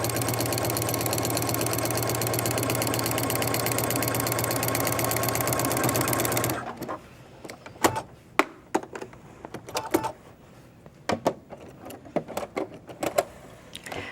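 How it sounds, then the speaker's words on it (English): A sewing machine runs continuously for about six seconds, top stitching around a fabric diaper bag, a steady fast mechanical whir that then stops, followed by scattered light clicks and handling sounds. "You're also going to want to continue sewing around the bag, top stitching the areas together"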